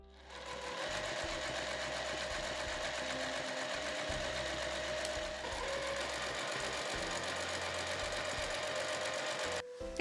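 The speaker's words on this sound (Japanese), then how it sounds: "この縫い合わせのところからぐるっと一周縫って、最後ね縫い目を重ねるという縫い方で仕上げていきます。" A domestic sewing machine runs steadily as it stitches once around the leg opening of fabric room pants, a fast, even mechanical whirr with a rhythmic knocking underneath, stopping just before the end.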